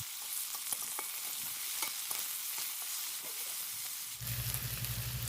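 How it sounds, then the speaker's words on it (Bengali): Panch phoron, onion and garlic frying in hot oil in a wok, giving a steady close sizzle with scattered scraping stir strokes, then a sudden louder burst of hissing near the end. "ওই কড়াই ওই তেলের মধ্যেই আমি দিয়ে দিলাম পাঁচফোড়ন পেঁয়াজ আর একটু রসুন সেতো করা দিয়ে দেবো দিয়ে ভালো করে নেড়ে লাল করে ভেজে নেব"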